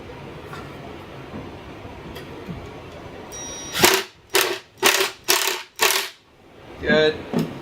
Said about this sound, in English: got my screwdriver, got my impact wrench here, got screws ready to go